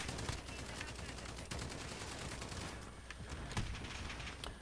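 SA87 light machine gun firing in a video game, a dense stream of rapid shots with a few sharper cracks standing out, steady and loud throughout with no talking.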